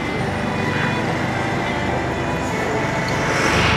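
A truck passes on a road at night, heard as a broad continuous rumble and roar of traffic noise that swells slightly toward the end, with a voice faintly underneath.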